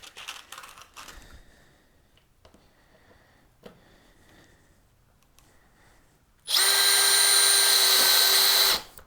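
A few quiet clicks and taps, then a Makita 40V XGT hammer drill on clutch setting 3 whirs loudly and steadily for about two seconds as it drives a screw into MDF, then stops.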